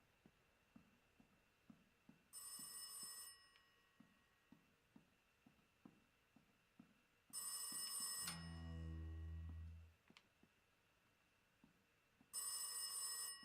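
An old-style telephone bell rings in bursts in the horror game Rise of Insanity, with regular ticking between rings and a deep mechanical rumble under one long ring.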